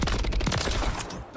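Call of Duty gunfire blasts through a door on the Stash House map, a fast burst of loud automatic shots hammering close up before cutting off.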